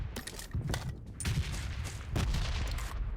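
Rapid bursts of M4 rifle gunfire in the mobile game PUBG Mobile, a dense rattling string of shots, loud and close without talk.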